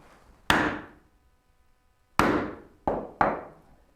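A wooden mallet strikes a chisel chopping mortises in wood, four sharp, close knocks with brief decays, the last three coming in quicker succession.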